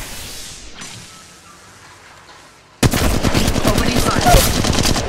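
Gunfire in Apex Legends Mobile bursts in suddenly after a quiet stretch, a loud, rapid automatic rattle of close shots that keeps going to the end.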